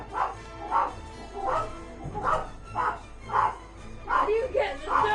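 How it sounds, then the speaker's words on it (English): A pet dog barking repeatedly in a home, roughly one sharp bark per half second, fairly close and loud, with some whimpering yips mixed in. "That's my dog just kicking off"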